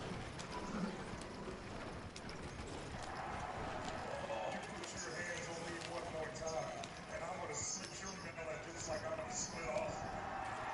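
Game-style hoofbeats from a horse in Red Dead Online clip-clop steadily beneath continuous talking and a busy mechanical background, moderately loud throughout.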